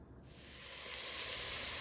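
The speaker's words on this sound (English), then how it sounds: "I'm gonna cook the sausage" Lean Italian sausage sizzling in olive oil in a Dutch oven, a dense, steady frying hiss that swells slightly and carries on alone.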